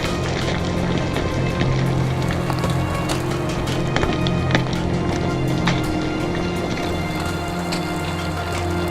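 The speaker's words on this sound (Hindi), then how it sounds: "यहाँ हवा चल रही है और बारिश भी हो रही है।" Steady rain patters down in the mountains of Pakistan with a constant broadband hiss, a low rumble of wind underneath and occasional sharper drops, continuous throughout.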